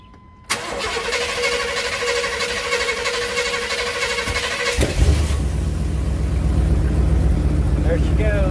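A 1988-98 GMC/Chevy C/K 1500 pickup, fresh from a fuel tank and pump swap, cranks briefly and catches, then settles into a steady, loud close-up idle.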